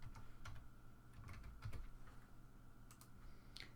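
Fingers tap out a login on a computer keyboard, quick irregular bursts of soft clicks close by with short pauses between runs, no voices.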